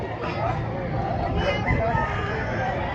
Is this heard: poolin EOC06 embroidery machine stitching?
no